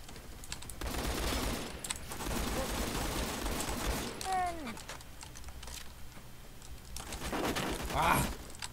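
Gunfire in the Phantom Forces video game crackles in rapid bursts of fusillade for several seconds, with a rising whistle-like sound midway and another loud burst near the end, with a player's excited voice over it.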